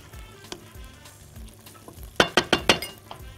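Potato shawarma with vegetables fries in a pan, a soft steady sizzle broken by a handful of sharp clinks of a utensil against the pan near the end, heard up close with no talk.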